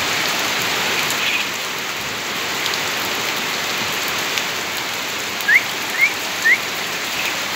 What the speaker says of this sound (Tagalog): Ayan na, lakas-lakas ng ulan.